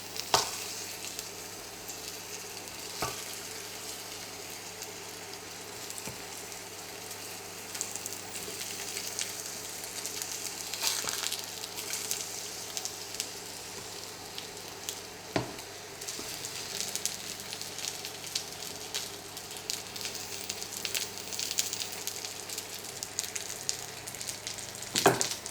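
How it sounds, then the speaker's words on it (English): Taro pieces frying in oil for pork belly with taro, a steady broadband sizzle that holds for the whole stretch, with occasional sharp clicks and clatters of a utensil against the pan, close and fairly quiet, no talking. "And then we can fry the taro."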